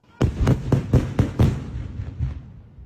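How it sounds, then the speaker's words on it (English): Controlled explosion in Toronto, heard as a rapid series of sharp blasts followed by a couple of duller booms, loud with a fading tail and no voices over it. "There was an explosion, which was supposedly a controlled explosion that happened in Toronto."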